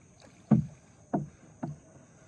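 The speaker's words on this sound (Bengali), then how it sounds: "আমি এখন নৌকা চালাচ্ছি, নৌকার মাঝি।" Three paddle strokes move a small wooden rowboat, each a distinct splash and swirl of water at an unhurried, slightly uneven pace, close and fairly quiet.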